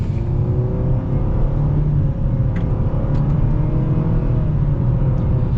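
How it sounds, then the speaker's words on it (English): A 2021 Nissan Sentra SR with a CVT accelerates at full throttle, a loud sustained engine drone rising smoothly in pitch from inside the cabin. "We are going to be getting our full-blown acceleration now."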